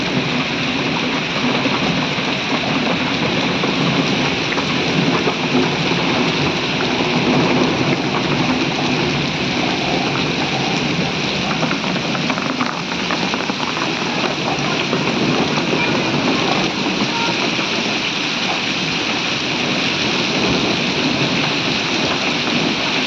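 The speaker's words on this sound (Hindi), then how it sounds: "तो भाइयों कितनी तेज बारिश हो रही। बारिश में देखो कंकर भी आ गई।" Heavy rain mixed with hail pours down steadily, a loud dense hiss of drops and pellets striking surfaces without pause throughout.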